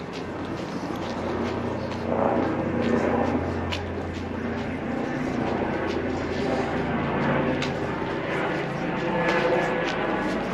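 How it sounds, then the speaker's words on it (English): A Mernda line train approaches from a distance, a low rumble that builds gradually under a wash of outdoor background noise. "we can hear a train coming"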